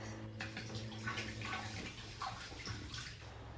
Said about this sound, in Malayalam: ഇത് ഐക്യന്ന് വാങ്ങിച്ച ബ്രഷാണ് കേട്ടോ കുപ്പിയൊക്കെ കഴുകാൻ നല്ല സുഖമാണ്